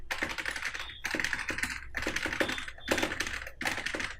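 Computer keyboard keys clatter in rapid bursts while text is entered for a JavaScript copy-to-clipboard demo, the typing coming in about five close, steady runs separated by brief pauses, with no talking.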